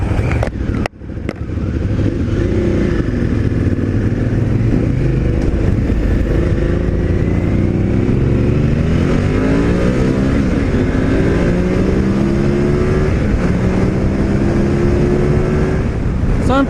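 Honda Africa Twin adventure motorcycle on Anakee Adventure tires accelerating hard at full throttle up a freeway entrance ramp, a loud, steady engine roar rising in pitch with wind noise, close to the rider throughout.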